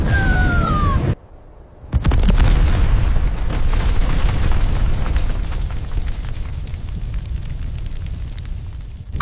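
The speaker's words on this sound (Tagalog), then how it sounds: "pagkapag pinindot ko ito, sasabog ang buong mansyon!" A bomb detonates and destroys a whole mansion: a loud, heavy explosion bursts in after a brief near-silent gap, then a long rumbling roar of blast and debris sustains at high level to the end.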